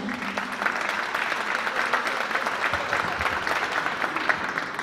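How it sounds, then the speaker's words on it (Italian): An audience at a literary prize ceremony applauds the jury, with steady, dense clapping at moderate volume filling the hall throughout. "Salutiamo la giuria che gli facciamo un grande applauso."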